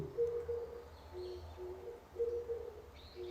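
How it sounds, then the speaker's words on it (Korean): Wild turtle dove cooing in rainy mountains, low repeated hooting phrases in two bursts, fairly faint and distant over a quiet outdoor background with faint higher bird chirps. "산비둘기는 저런 식으로 소리를 내네요"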